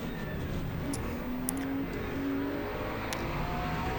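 Race cars in Le Mans Ultimate, including McLarens, droning through a slow corner in traffic with other cars battling close behind, a steady engine whine and rumble holding at an even, moderate level throughout.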